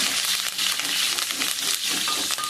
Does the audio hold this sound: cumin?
yes